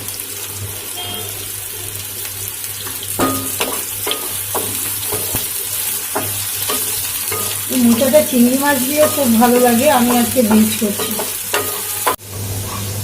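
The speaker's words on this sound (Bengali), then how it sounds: "তো আমার আলুগুলো দেখুন লাল করে ভাজা হয়ে গেছে" Potatoes and grated coconut fry in oil in a pan for a Bengali banana-flower dish, a steady close sizzle broken by scraping stirs, while someone talks over the cooking.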